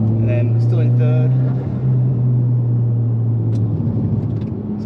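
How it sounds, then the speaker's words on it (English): A Mitsubishi Evo X with SST transmission accelerates out of a corner in third gear, a deep steady engine drone and road rumble from inside the car, easing slightly midway, with a voice speaking over it at the start. "Around this corner, we'll accelerate out of it."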